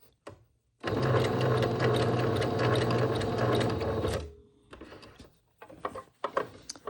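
A sewing machine stitches elastic shirring into fabric held stretched, running in one loud, continuous burst of rapid needle clatter, then stopping for a few softer handling clicks and knocks.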